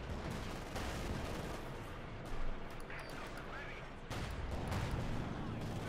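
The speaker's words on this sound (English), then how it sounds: "Shoot them bombarding, machine guns blaring away." Machine gun and artillery fire in Company of Heroes 2, a dense, fairly quiet rumble of distant gunfire and booms running steadily throughout.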